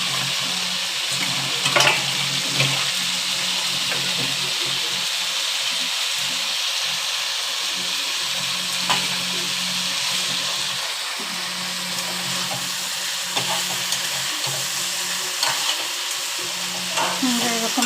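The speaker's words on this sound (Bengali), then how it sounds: "মোরলা মাছটা দিয়ে দিলাম, দিয়ে আর একটু নেড়ে চেড়ে" Small mola fish and vegetables frying in a pan while being stirred, a steady loud sizzle with occasional scraping and clinking of the spatula, no talking.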